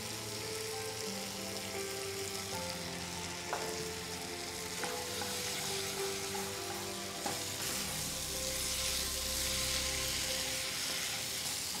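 Paneer sautéing in masala with garam masala in a pan for paneer jalfrezi, a continuous close sizzle and frying hiss with occasional stirring scrapes, steady and moderately loud throughout.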